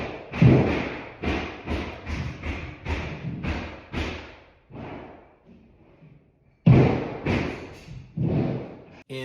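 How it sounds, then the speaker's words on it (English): Roofers putting a new roof on a house, heard from inside an empty room with bare floors: a run of loud, resonant hammering thuds in uneven bursts, a pause, then heavy pounding again, with no talk. "this is what getting a new roof sounds like"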